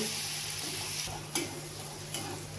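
Green chillies and garlic fry in oil for a spicy bhendi (okra) dish, giving a steady close sizzle with a few brief stirring clinks and scrapes and no talk.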